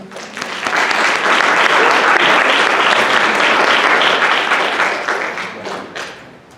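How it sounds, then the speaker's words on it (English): A packed audience bursts into sustained, loud clapping that builds quickly, holds steady for several seconds, then thins out to scattered claps. "Round of applause."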